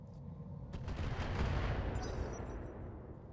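Mech weapons firing in the video game RogueTech, a BattleTech mod: a dense, loud roar of overlapping gunfire and booms that builds and holds across the span, with a brighter crackling burst near the end and no talk.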